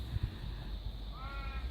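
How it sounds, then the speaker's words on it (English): Crows in a family group with young give a faint, brief harsh caw in the distance over steady outdoor background noise, with a low thump near the start; no talk. "This is my little crow family."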